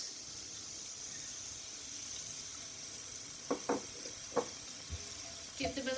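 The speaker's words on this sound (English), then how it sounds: "Once it's heated up, add your chopped onions." Chopped onions sizzle in hot oil in a pan with a faint, even hiss that runs throughout, and a few sharp clicks and taps toward the end.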